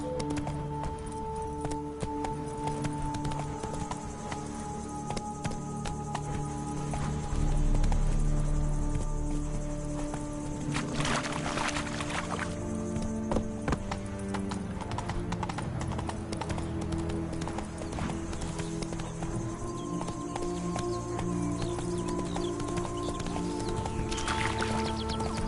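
Roach the horse galloping in The Witcher, a steady, rhythmic clip-clop of hooves running close and continuous, with music and ambient game sound underneath.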